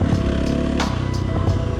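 A motorcycle fitted with a Tokyo Mods Vortex ECU roars loud and close while riding, its engine note fluctuating with throttle changes and carrying some wind and mechanical clatter.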